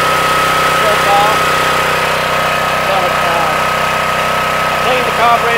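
A Subaru-powered 2700 PSI pressure washer engine runs steadily after a carburetor repair, its loud, even drone continuing close by for the whole stretch.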